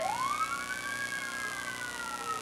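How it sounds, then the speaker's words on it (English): An unusual siren on a Newberry Fire Department truck during a Maplefest parade, with one long rising-then-falling wail that carries steadily over background crowd and street noise. "There's Newberry Fire Department. They've got an unusual siren."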